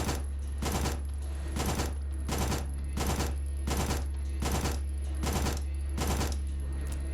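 Rapid gunfire in the video game Signalis: loud, regular bursts of shots repeat steadily for several seconds, close and dominant, with no talk.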